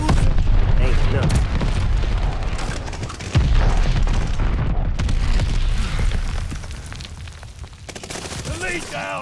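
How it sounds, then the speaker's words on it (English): Friendly bombing run in a shooter video game: a dense, continuous barrage of heavy explosions and rapid gunfire rumbles loudly for the whole stretch, with a sharp fresh blast partway through and voices speaking over the din. "Friendly bombing run inbound."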